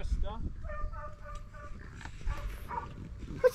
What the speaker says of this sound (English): Somebody's puppy's barking.